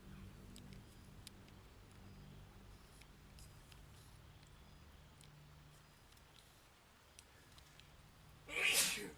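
A single sharp sneeze bursts out at the end after a stretch of quiet background with faint voices and game sounds, a friend playing Baldur's Gate 3.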